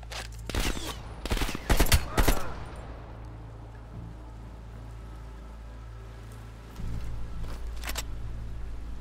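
Gunfire in Call of Duty: Black Ops Cold War, several loud sharp shots and bursts clustered early, then a low steady rumble with a couple of faint distant shots later.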